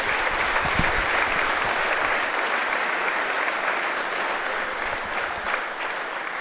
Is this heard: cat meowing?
no